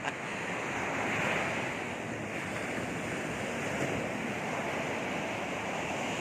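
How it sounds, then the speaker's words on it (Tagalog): Ocean waves at high tide wash in a continuous loud surf roar as evening falls, a steady close rush with gentle swells and no voices. "Habang papagabi ay lumalakas yung alon"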